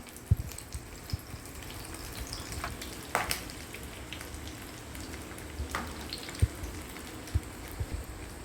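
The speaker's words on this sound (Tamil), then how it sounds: "இந்த மாதிரி ஒவ்வொன்றா போட்டு பொரிச்சு எடுத்துக்கலாம்." Breaded KFC-style chicken pieces deep-frying in hot oil, giving a steady soft crackle and sizzle with scattered sharper pops and a few clinks, close and moderately quiet with no talking.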